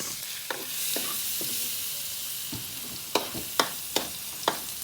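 Buffalo meat for bistek sautés in a pan, a soft, even sizzle punctuated by several crisp spatula taps and scrapes, the clicks clustering toward the end; no talking.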